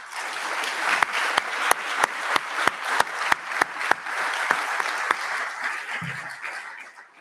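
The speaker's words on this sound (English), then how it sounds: "I'd like a big round of applause for these counselors" A graduation audience claps for counselors at a college orientation workshop, a full room of steady applause with sharp individual claps standing out, fading off at the end.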